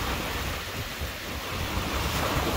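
Wind and small waves on Mille Lacs, a big Minnesota lake, make a constant loud wash of surf with wind rumbling over the microphone, steady and unbroken, no one speaking.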